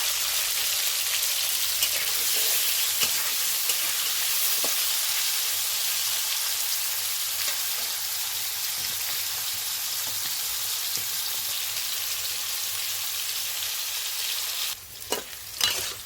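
Diced potatoes sizzle steadily in hot oil in a pan while being stirred, a continuous close frying hiss with soft stirring scrapes and a few louder clatters near the end, for a potato, eggplant and fish dish.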